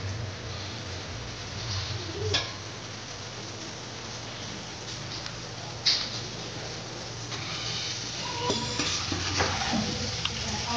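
Masala paste of spices fries in a pan for a prawn masala, a constant moderate sizzle with occasional stirring scrapes, while a pigeon or dove coos softly in the background.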